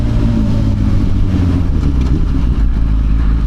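A Suzuki Gixxer liter bike's engine holds a loud, steady, close drone as the rider runs up through the gears, with no clear breaks between shifts.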